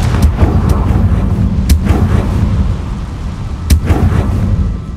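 A Confringo fire spell from Hogwarts Legacy bursts in loud booming blasts, with sharp explosive hits repeating over a continuous heavy rumble.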